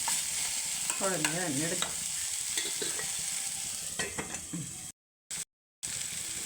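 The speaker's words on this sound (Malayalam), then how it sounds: "ജസ്റ്റ് ഇതൊന്ന് ഇളക്കി അടച്ച് വെക്കണം." Pumpkin mezhukkupuratti, a Kerala stir-fry, being stirred in a pan, with an ongoing quiet sizzle and light scraping strokes, while a voice speaks briefly over it and the sound cuts out twice near the end.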